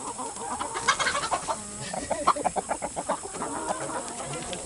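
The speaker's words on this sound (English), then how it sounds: "Crazy damn chicken." A farm chicken clucks in a rapid run of close, choppy calls, fairly loud over a faint background hiss.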